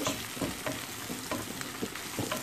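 Mushrooms and chives sizzling in a pan while being stirred, a steady close frying hiss broken by regular soft scraping strokes of the utensil, with no talk.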